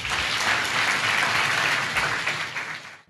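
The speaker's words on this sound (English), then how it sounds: "Clap your hands for Jesus Christ" A church congregation at a healing service claps for Jesus Christ: thick, continuous applause from many people filling the room, steady throughout and tapering off at the very end.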